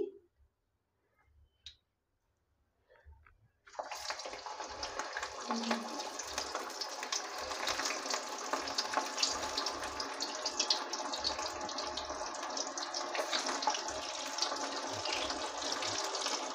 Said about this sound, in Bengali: এখন তেলটা গরম হয়ে গেছে এখন আমি দিয়ে দিব টিক্কি